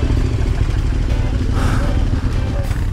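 A light trail motorcycle rides on a grassy, slippery, puddled loop in Aveyron during an Occitan raid, its engine droning loudly and close with clattering over rough ground, a voice speaking over it.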